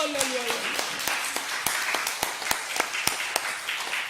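Congregation in a church clapping together in a steady beat, sharp hand claps spaced roughly every quarter second, with a voice briefly heard at the start.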